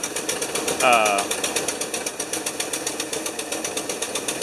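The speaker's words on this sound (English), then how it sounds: "Put it in gear, run it through the gears" A 1975 Lincoln Continental idling with a steady rhythmic engine pulse while the transmission is run through the gears, a brief tonal whine and clunk early on, close and loud.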